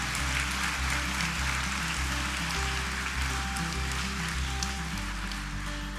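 Steady, dense clapping fills a graduation ceremony hall as an audience applauds college graduates, a continuous even roar of many hands at moderate level without a break.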